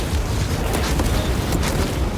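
A loud, sustained explosive roar from a self-inflicted grenade blast in the video game Space Marine 2, with a rumbling low end and crackling bursts, dense and continuous throughout.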